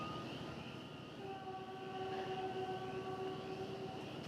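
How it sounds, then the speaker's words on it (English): A distant train horn sounds a long, steady multi-tone blast over a low background rumble near DFW Airport at night, fading out after a few seconds. "The lonesome train whistle."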